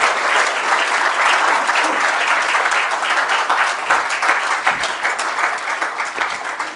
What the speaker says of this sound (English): request you to welcome him with a warm round of applause as he comes up to collect his award